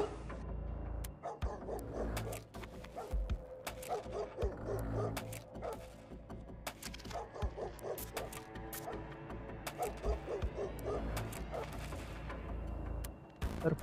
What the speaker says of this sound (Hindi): अभी कुत्ते की आवाज़ आ रही है